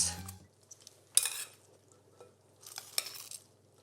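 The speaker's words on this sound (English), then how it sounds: "I'm going to give them a good toss." Chilled cooked green beans tossed in a bowl, with soft clatters and brushing rustles in a few short bursts, close and quiet, separated by near silence.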